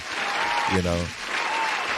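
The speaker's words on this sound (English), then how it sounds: "I want to give you another round of applause again." A crowd claps in steady applause throughout, with a voice briefly calling out over it near the middle.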